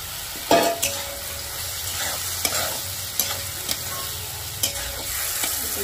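Chopped banana flower being stir-fried in a pan for a pulao, a steady close sizzle with spatula scrapes and a few sharp clinks against the pan, no talking.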